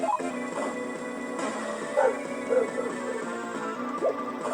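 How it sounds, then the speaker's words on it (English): Dogs bark and yip in the video game Shin Megami Tensei II, several short sharp barks scattered over a busy layer of game music and effects, fairly loud and close. "Oh, the dogs are sure barking."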